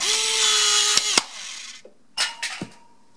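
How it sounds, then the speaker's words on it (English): A Taigen airsoft unit motor whirs steadily while firing, a bright continuous mechanical whine broken by a few sharp clicks, then short bursts of motor run and taps after a brief pause, heard close up with no talking. "you can hear the motor turning"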